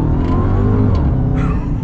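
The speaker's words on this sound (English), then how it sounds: "so I can kind of get up to speed here with the Hellcat." A 2023 Dodge Charger Hellcat Redeye Jailbreak with 807 horsepower accelerates hard, its engine roaring loud and close in a steady, continuous rumble with rising revs.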